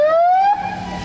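A police patrol car siren sounding briefly up close and loud, one rising electronic wail that cuts off about halfway, followed by quieter background noise.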